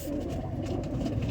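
Hand-raised pet pigeons coo softly and close by, a low, steady, throaty murmur throughout a short moment.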